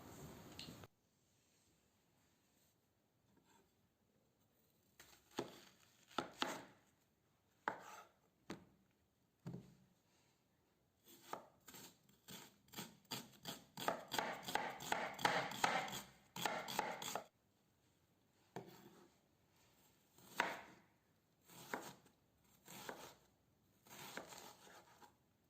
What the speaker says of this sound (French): maintenant je le coupe en petits cubes